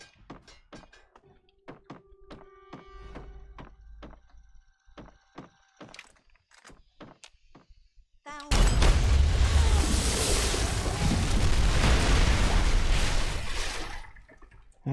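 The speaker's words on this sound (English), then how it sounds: "Hit with such force, he just exploded." An explosion in the video game Fallout 3 erupts suddenly as a loud, dense blast that roars for several seconds before fading. Scattered thuds and clicks from the game come before it.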